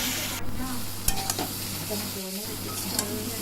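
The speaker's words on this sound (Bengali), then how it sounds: "দেখো, আমি নেড়ে চেড়ে খুব ভালো করে কষিয়ে নিয়েছি।" Fish masala for a bata fish curry being stirred and sautéed in a pan, a steady sizzle broken by spatula scrapes and clacks against the metal, close up with no one talking.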